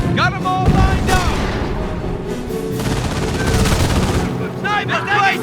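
Gunfire in the World War II strategy game Company of Heroes, loud bursts of rifle and machine-gun shots mixed with booming blasts, with voiced soldier callouts over the battle.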